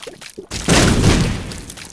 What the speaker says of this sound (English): that was an explosion for the books